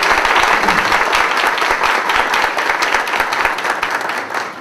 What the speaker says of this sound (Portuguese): até convido a dar uma salva de palmas para a imagem